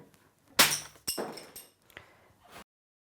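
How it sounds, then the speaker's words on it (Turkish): A wooden slat covered by a sheet of newspaper is struck hard and snaps in two, giving a loud sharp crack followed by a few smaller knocks and clatters of the broken pieces, close by with no talking. "Gördüğünüz gibi çıta ikiye ayrıldı."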